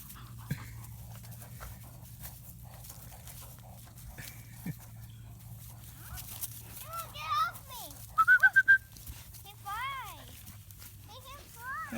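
Black female Labrador Retriever puppy panting and giving soft whimpers, faint at first and then a few clearer, higher whines later on, with people talking nearby throughout.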